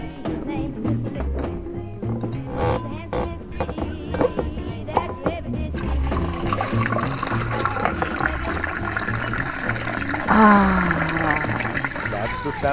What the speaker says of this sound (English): Pour them margaritas, Spider.